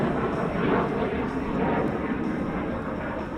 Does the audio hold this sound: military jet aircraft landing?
yes